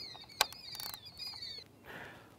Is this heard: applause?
no